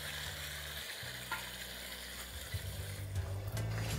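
Boiled jackfruit and fried potatoes being sautéed in oil: soft bubbling sizzle with low rumbling and a few stirring clinks toward the end, fairly quiet and close, no voices.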